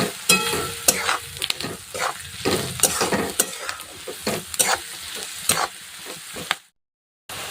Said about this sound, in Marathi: आता परत छान मिक्स करून घ्यायचं